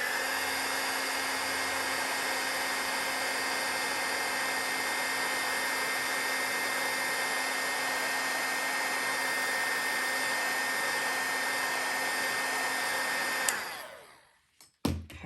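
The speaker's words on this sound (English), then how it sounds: "And then just going to heat it up with the heat tool." A heat tool blows steadily and loudly while melting embossing powder on a handmade Halloween card, a constant hot-air whine for about thirteen seconds before it cuts off and trails away.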